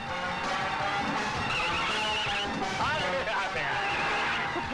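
Car tyres skid under hard braking during a chase, a dense continuous engine and screech wash with shouting voices over the top throughout.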